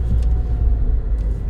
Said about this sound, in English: Meanwhile, a Tata truck comes in the way.